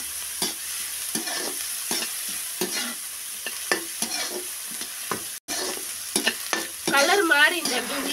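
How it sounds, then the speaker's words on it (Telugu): Onions fry in hot oil until golden for a broad bean and tomato curry, a continuous close sizzle broken by repeated scraping stirs of a spoon, with a brief dropout and a livelier burst near the end. "ఉల్లిగడ్డలు గోల్డెన్ కలర్ వరకు వచ్చే వరకు ఇలా వేసుకోవాలండి."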